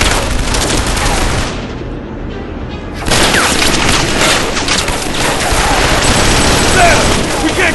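Dense, continuous bursts of rapid machine gun fire in the video game Killzone 3 fill the clip, with a brief dip before the automatic fire roars back louder and sustained.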